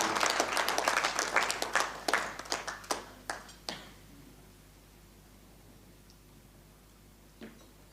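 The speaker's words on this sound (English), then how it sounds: "Please give a round of applause to come and say something about business community." Applause at a business community gathering in Kampala, Uganda: a brief burst of clapping from a small group that thins into a few spaced, fading claps, then near silence with one late clap.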